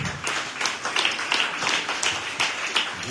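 Audience applause and clapping at a French-language show, dense and steady with sharp individual claps spread throughout, fairly close and alone with no talking.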